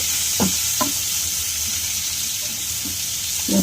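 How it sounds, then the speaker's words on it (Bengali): Onion and green chilli sizzling in hot oil alongside fried garlic, a steady bright hiss with a few soft stirring knocks from the pan. "এখন দিয়ে দিলাম এখানে পেঁয়াজ আর কাঁচামরিচ"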